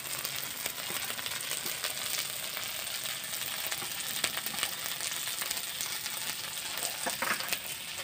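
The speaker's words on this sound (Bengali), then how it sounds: "আদা রসুন বাটা, এগুলো একটু ভালো করে ভেজে নেব" Ginger-garlic paste and cumin powder fry in a pan for village-style egg korma, a steady close hiss of sizzling oil with light stirring scrapes and occasional small clinks running throughout.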